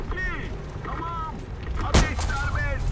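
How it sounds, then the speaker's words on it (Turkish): Artillery and gunfire in War Thunder during a T-80U tank battle, with scattered distant rumbles and one loud close blast near the middle, voices chattering faintly throughout. "Ya ben ne uğraşıyorum ki şöyle ben de bir topçu atayım"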